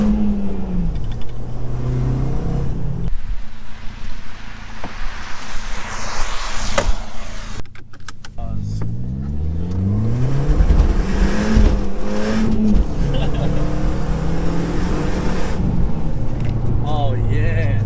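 A Skoda Octavia vRS drives hard with the engine revving and shifting, then comes to an abrupt emergency stop. The car was earlier noted as having brake trouble. Loud cabin noise persists throughout while voices talk and shout over it.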